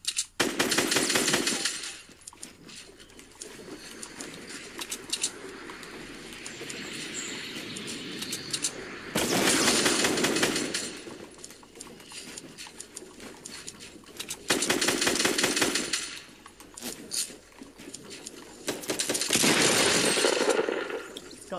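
Video game shotgun fire in Fortnite, loud repeated bursts of blasts in several clusters with quieter stretches of game noise between them.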